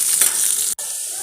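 Onions and curry leaves sauté in a pan with a bright, close hissing sizzle that briefly cuts out, then resumes more softly.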